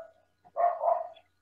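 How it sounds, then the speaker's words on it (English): A short dog sound, one brief bark-like yelp followed by a drawn-out whine, fairly close and clear against near silence. "Could somebody who has the dog turn that off?"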